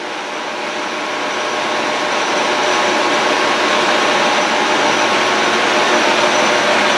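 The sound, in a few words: Monarch long bed lathe threading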